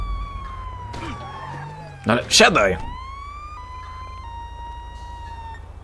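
A wavering police siren tone runs through, with a harsh burst of noise in the middle and a voice speaking over it, in the video game GTA V with the LSPDFR mod.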